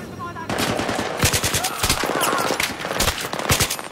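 Bursts of rapid automatic gunfire and scattered shots in a Battlefield 3 multiplayer match, loud and dense, with brief gaps between volleys.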